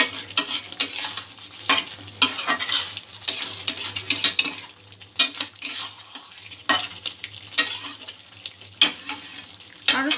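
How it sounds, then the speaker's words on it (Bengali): Chicken kalia stir-fried in a pan, with steady sizzling and frying broken by repeated scrapes and clinks of a spatula against the pan, close and fairly loud throughout. "আরো কিছুক্ষণ ঢাকা দিয়ে আমি একটু কষিয়ে নেব"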